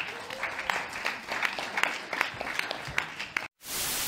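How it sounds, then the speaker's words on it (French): A crowd applauds steadily at an event hosted by a French emcee, a dense spatter of many hands at moderate distance, then a sudden cut to silence and a burst of hiss. "Applaudissements pour le 100 ECS quand même."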